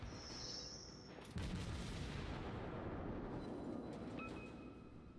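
Battleship secondary guns fire in World of Warships, a sharp boom followed by a dense rumbling roar that sustains and slowly fades, with a high ringing tone early on.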